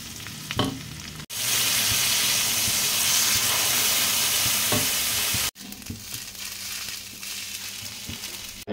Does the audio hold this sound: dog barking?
no